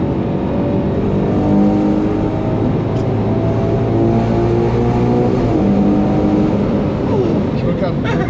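A Ferrari Purosangue's engine drones loudly and continuously while driving, with gear-change shifts in pitch, as people talk in the cabin over it.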